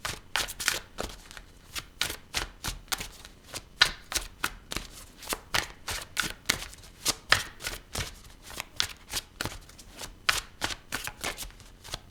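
Tarot cards are shuffled in a rapid run of crisp riffling slaps and flutters, close and fairly soft, with no talking.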